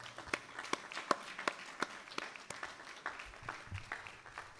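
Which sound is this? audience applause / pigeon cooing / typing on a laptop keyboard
audience applause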